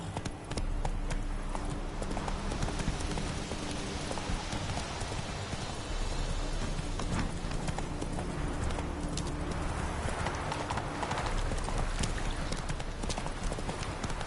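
Horse hooves clip-clop steadily while riding in The Witcher video game, a continuous, even trot that runs clearly through the whole stretch with a brief rider's call near the start.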